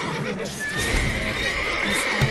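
Horses neighing in The Witcher 3: Wild Hunt, a thin whinny drawn out over game ambience and a steady background hum, with a brief thump near the end.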